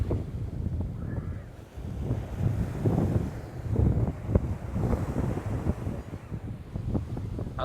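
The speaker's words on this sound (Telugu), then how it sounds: "ఇక్కడ ఏంటంటే ఒడ్డునే జర పెద్ద పెద్ద అలలు వస్తున్నాయి అన్నమాట." Large waves break on the shore at Dhanushkodi, a continuous low roar of surf under heavy, close wind buffeting on the microphone.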